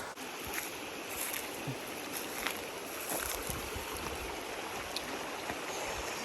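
A private stream of cool water flows steadily in tropical Thailand during fruit season, making a continuous close burble and splash with small irregular trickles and no talk.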